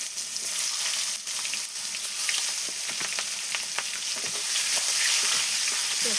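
Onions with cumin fry in oil in a pan on a clay stove, giving a constant close sizzle with scattered crackles and the scrape of stirring throughout, without talk.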